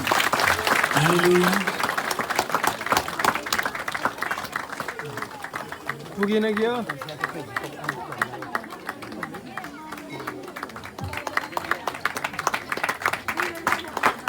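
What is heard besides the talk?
people clapping at a Christmas gathering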